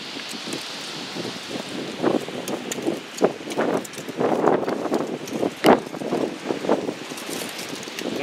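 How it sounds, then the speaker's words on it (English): Gusty wind during a bad storm, rushing and rustling in uneven surges with a loud gust near the middle and a steady roar underneath, close to an outdoor microphone. "The wind is still blowing"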